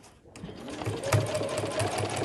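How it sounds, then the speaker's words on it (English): A sewing machine runs in a short steady burst while back-stitching at the start of a seam on a backpack front flap, its motor hum close and even. "Do a few back stitches"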